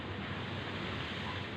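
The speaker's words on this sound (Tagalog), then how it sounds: "grabing lakas ng hangin" Strong wind blows across an open outdoor spot on a cold day, a steady, dense rushing roar with no break and no voices.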